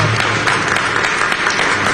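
A crowd claps at a political gathering after a statement about overseas conflict. The applause is loud, dense and continuous, with a low hum under it through the whole short stretch.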